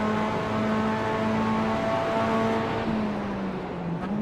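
A race car engine in iRacing at Road Atlanta drones steadily at close range, holding a sustained tone before easing off and shifting pitch near the end.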